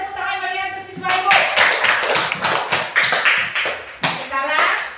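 Students applauding in a classroom, a burst of rapid, uneven hand claps from a group close by, with a voice speaking over the start and end.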